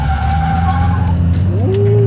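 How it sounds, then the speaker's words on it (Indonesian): An SUV launches from a standstill at the start of a 0-100 drag race, engine droning loudly with a rising tone as tires skid and squeal, the noise continuous and close throughout. "kita coba drag race dari 0 sampai 100 kira-kira mana waktu lebih baik?"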